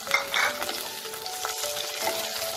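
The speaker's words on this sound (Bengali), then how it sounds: "টমেটোটাকেও আমি 1 মিনিট একটু তেলে নাড়াচাড়া করে নেব।" Chopped tomato sizzling in hot oil while being stirred in a pan for masala bhindi, a bright continuous fry hiss broken by scraping stirs, close and loud, with no talk over it.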